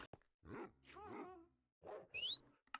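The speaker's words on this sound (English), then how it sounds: "Dogs are really loud now." A dog in a video game barks loudly, several short harsh barks in two clusters with silent gaps between them, ending with a brief high squeal.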